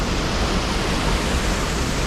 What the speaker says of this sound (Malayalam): ഇനി ഇവിടെ നിന്ന് ഇങ്ങനെ ഫുള്ള് അങ്ങ് ഒഴുക്കുണ്ട്, നല്ല രീതിയിൽ അടിയിലേക്ക് പോകണുണ്ട് കേട്ടോ